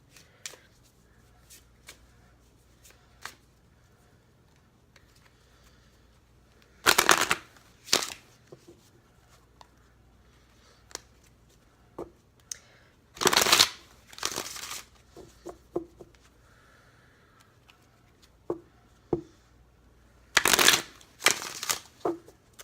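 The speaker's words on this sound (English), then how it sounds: "And so I'm going to shuffle" Tarot cards being shuffled in three loud bursts of riffling and flicking, separated by softer scattered card taps and slides, close up and without talking.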